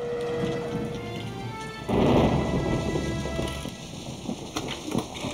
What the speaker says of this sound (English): In this severe storm